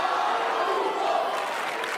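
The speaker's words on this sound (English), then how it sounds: "they're screaming his name. All of them are applauding to him." Football fans fill Camp Nou during a player presentation, a dense, steady crowd roar of chanting and applause that holds at a constant loud level throughout.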